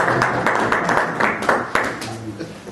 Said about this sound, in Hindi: कुछ लोगों ने ताली बजाई,